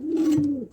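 A single roller pigeon gives one short, soft coo, a low steady tone held for under a second, close and clear.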